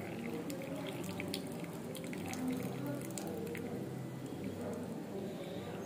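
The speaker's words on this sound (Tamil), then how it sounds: "ஸோ டம்ளரில் மாற்றும் போது நீங்கள் வந்து வடிகட்டி எடுத்துக்கோங்க." An herbal drink is strained and poured into a tumbler in a home kitchen: a steady, close trickle and splash of liquid runs throughout with soft clinks.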